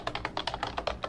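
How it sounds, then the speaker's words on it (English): Quick, light keystrokes on a computer keyboard form a fast, even rhythm of about a dozen soft clicks, close and quiet with no voices. "So we're going to type in sudo"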